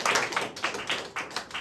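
Theatre audience at a Kaamelott stage show in Paris clapping, a dense run of hand claps swelling in waves, fairly close and alone.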